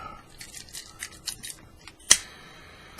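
Scissors cut through a length of paracord for a stitched inverted zawbar, a handful of soft snips followed by one sharp, close snap of the blades, then quiet.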